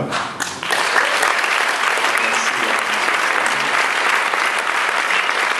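Audience applauding at the 2021 Directors' Fortnight opening ceremony in Cannes, a big, loud, sustained ovation from a full room after a short quieter start.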